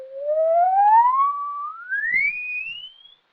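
A pure electronic tone from a laboratory oscillator glides steadily upward in pitch from low-mid to high over about three seconds, clear and alone, with a faint upper harmonic.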